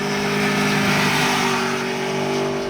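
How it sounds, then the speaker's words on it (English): A 2021 Aprilia Tuono V4 motorcycle's exhaust gives a sustained, loud engine tone, holding steady and close without a break for a few seconds. "the sound that comes out of this exhaust is an absolute joy"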